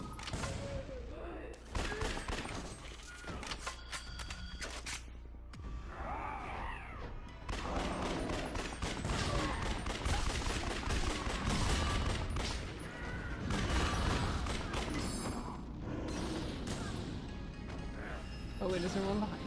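Gunfire and crashing impacts from the video game Yakuza: Dead Souls, a steady dense barrage with heavy thuds that runs the whole time under continuous talk from a player.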